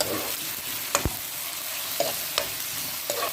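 Onions fry in a pan with a constant crackling hiss, punctuated by several brief spatula scrapes and taps against the metal.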